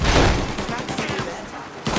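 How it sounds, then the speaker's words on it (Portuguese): A gunfire shootout in the video game Mafia Definitive Edition sounds as a dense, loud burst of overlapping shots and rattling fire, continuous over a couple of seconds with a fresh blast at the end. "tá tem tiroteio aqui fora?"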